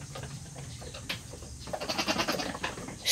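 Goats bleat on a farm in a few short, wavering calls, one near the start and a quicker run of bleats toward the end, heard nearby against faint background noise.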